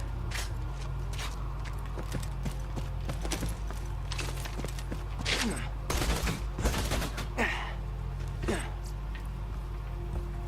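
Enemy gunfire in the shooter game Borderlands 2, a series of sharp shots and bursts scattered across the stretch, mixed with game effects and heard under someone talking.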